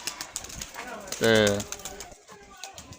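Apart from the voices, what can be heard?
pigeons released from loft, flapping and cooing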